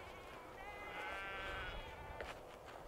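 A sheep bleats once in a long, wavering cry from a field near Croome's Panorama Tower at sunset, moderately distant over a soft outdoor breeze-like background, with no talking.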